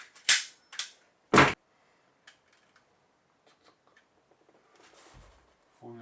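A nail gun fires nails into wooden wall panels of a camping cabin: three sharp, loud cracks in quick succession, then faint clicks and handling noises.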